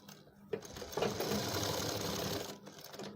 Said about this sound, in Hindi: यहाँ पर सिलाई लगाना शुरू करेंगे